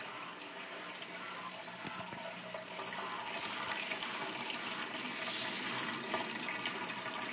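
Steady rushing and gurgling of water pouring through an aquarium overflow box and down its tube, continuous and fairly loud with no talking.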